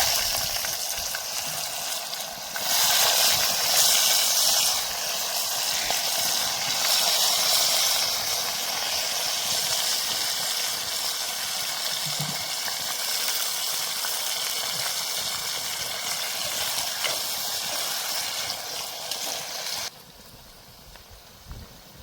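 Cut potatoes drop into hot oil with asafoetida and curry leaves, setting off a loud, steady sizzle with frying hiss. Faint stirring sounds under it, then the sizzle drops off sharply near the end.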